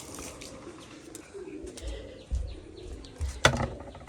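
Pigeons in a loft give low, quiet coos broken by a few sharp bursts of wing flapping, with faint handling noises nearby.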